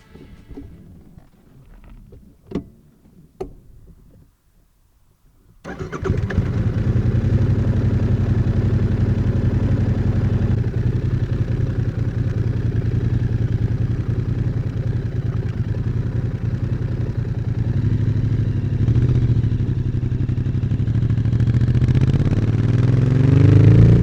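After a few faint clicks and a short silence, a Royal Enfield Interceptor 650 fitted with an 865 big bore kit fires up and settles into a loud, steady, slightly lumpy idle that swells a little toward the end.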